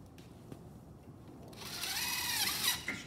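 A drill drives screws into metal stud framing, the motor whirring up to a loud, steady spin in the second half after a quiet start with faint clicks.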